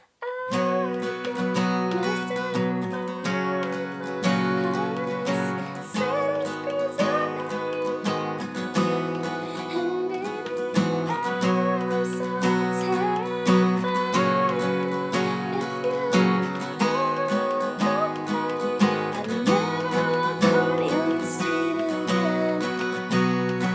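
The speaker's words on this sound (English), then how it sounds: "this time you're gonna do open strumming. Feel free to rock out with this strumming pattern." Steady acoustic guitar strumming with open chords, a lively continuous rhythm ringing at even volume throughout, no voices.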